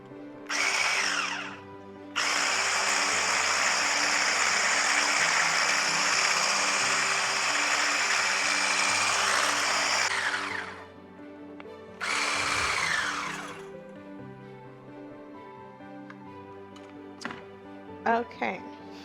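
An electric mixer blends body butter ingredients in a loud whirring burst that runs for several seconds, stops, then starts again for a shorter spell. Someone talks between and over the bursts.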